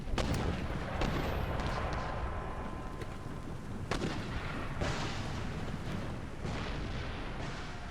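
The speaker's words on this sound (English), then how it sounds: "I'm going to let my mortars keep firing" Mortars in the Empire Total War strategy game fire repeatedly, with several sharp booming blasts and scattered distant gunfire set against a continuous battlefield rumble.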